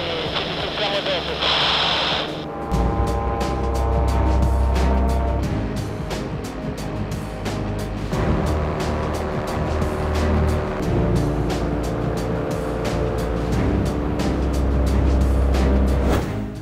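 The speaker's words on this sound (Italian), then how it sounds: "A 3500 metri sento un leggero scoppiettio al motore, dovuto al fatto che siamo da poco sotto lo zero termico." Light aircraft engine droning steadily in flight during a climb at 3,500 metres, just below the freezing level, with a slight sputter running through the loud, continuous noise.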